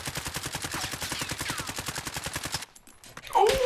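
Rapid automatic gunfire from a Call of Duty Modern Warfare Warzone match, a dense stream of loud shots for over two seconds, then a brief lull and a sharp burst with a whining tone near the end.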